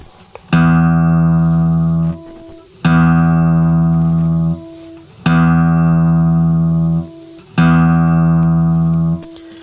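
The sixth string of an acoustic guitar is plucked four times for tuning. Each note rings loud and steady for about two seconds, then decays before the next pluck, evenly spaced with no talking.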